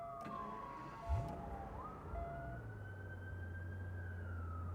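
A 2001 Aston Martin DB7 starts up at Celebrity Cars Las Vegas: a faint low crank sweeps upward and settles into a steady low idle hum, with thin siren-like tones drifting above it.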